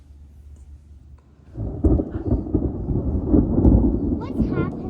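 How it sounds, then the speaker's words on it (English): Thunder from a storm rolls in after a quiet start, building into a loud, deep, sustained rumble that carries on to the end. "Listen, you'll hear thunder in just a second."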